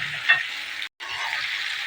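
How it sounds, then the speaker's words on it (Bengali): Ginger and garlic paste with onions frying in a pan for Bengali prawn malai curry, a close, bright, even sizzle with a brief stir scrape and a short break in the sound. "ভালো করে মশলাটাকে কষিয়ে নেব"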